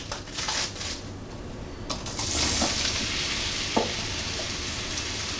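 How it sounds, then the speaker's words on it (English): Sliced, nearly expired mushrooms frying in a pan, giving a bright, steady sizzle with a few stirring scrapes and clinks, close and continuous with no voices. "Let's take our almost expired mushrooms and cook the crap out of them."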